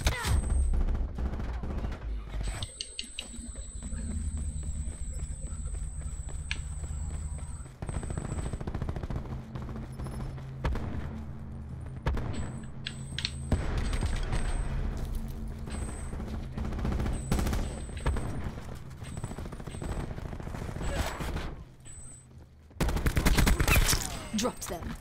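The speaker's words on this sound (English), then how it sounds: "Starting to actually shoot." Sustained gunfire in Call of Duty Black Ops 4, with long rattling automatic bursts and rapid volleys through most of the stretch, a louder flurry near the end, and game sounds and a voice underneath.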